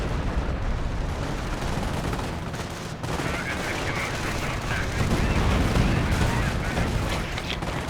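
An artillery counter barrage in the Company of Heroes video game pounds continuously, a dense, roaring wall of rapid shots and blasts that runs without pause.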